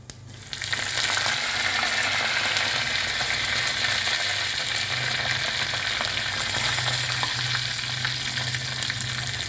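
Mustard seeds, cumin and curry leaves crackle in hot oil for dal kairi, the gas just switched off; a loud, dense frying hiss bursts in after a brief start and holds steady, close and unbroken.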